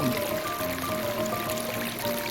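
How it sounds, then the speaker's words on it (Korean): A small valley stream trickles beside a pine-forest path at Gaesimsa temple in Chungnam, a steady, close babble of running water with a few faint tonal sounds above it. "졸졸졸 따라온 대곡 물소리"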